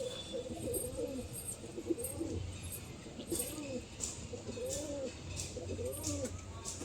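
Domestic pigeons coo in a loft, repeated rolling calls recurring every second or so at close range over a steady background hum, with brief higher chirps and rustles mixed in.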